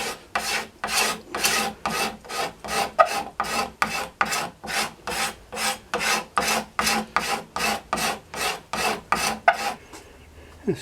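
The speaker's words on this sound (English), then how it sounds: "This gives you an idea of how much wood the scraper actually removes" A hand scraper shaves wood off a wooden bow in steady back-and-forth strokes, about two per second, each a crisp rasping swipe, close and clear with no talking.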